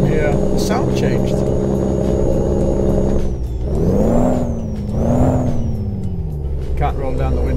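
A heavy truck hauling a 24-meter tandem trailer in Euro Truck Simulator 2 rumbles through a Norwegian mountain tunnel, its steady engine drone taking on a hollow echo with rising and falling tonal swells, under someone talking.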